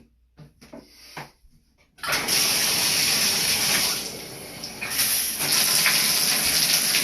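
After a few faint knocks, cold shower water bursts on and runs as a loud, steady, hissing spray close by, swelling slightly partway through.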